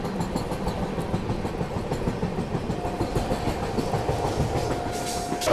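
The Kongu Express passenger train runs along with a constant rumble and a rapid clickety-clack of wheels over rail joints. It stays loud and steady for several seconds, and a faint whine or horn-like tone joins toward the end.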